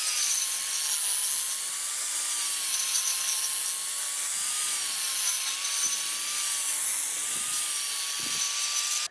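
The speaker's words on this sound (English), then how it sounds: "I just got to move the grinder back and forth." A Calado grinder is worked back and forth on concrete, giving a continuous loud high-pitched whine and grinding hiss with slight rises and falls as it sweeps.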